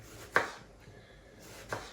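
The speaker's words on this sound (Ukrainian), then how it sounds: "Тепер наріжу цибульки міленько, отак, напівкільцями трошки." Two sharp knife chops slicing an onion into half-rings on a board, spaced over a second apart, against quiet background.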